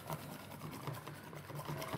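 Whisk beating milk into crepe batter in a bowl: a quiet, steady, rapid rhythmic swishing and tapping, close by and continuous, without voices.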